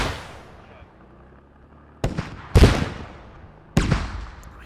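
Rocket explosions from a squad shooter video game's indoor close-quarters combat, with two to three sharp, loud blasts after a fading rumble, each ringing out and decaying; voices talk faintly underneath.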